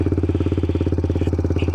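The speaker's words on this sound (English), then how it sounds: "Now that's what my exhaust sounds like, the Yoshimura RS2." Kawasaki Z125 Pro motorcycle with a Yoshimura RS2 exhaust idling warm, a steady, fast, even engine pulse, close and loud, with no clear rev rise in this stretch.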